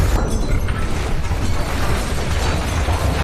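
A school cafeteria bomb blast in the 2022 film Luckiest Girl Alive: a loud, dense roar of rumbling debris and crackle that fills the whole stretch and cuts off abruptly at the end.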